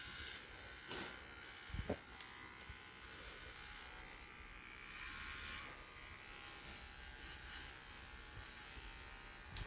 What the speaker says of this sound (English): I'm going to shave completely around the arm